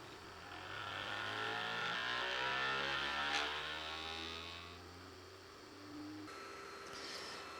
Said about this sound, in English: I'm running the calibration process for input shaping and for auto bed leveling for the first time.